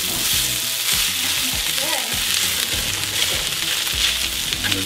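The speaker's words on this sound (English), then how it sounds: "We just want to give that a good stir." Food for a Filipino silog breakfast sizzles loudly and steadily in a hot pan while a utensil stirs it, with scraping clicks and knocks over the continuous frying hiss.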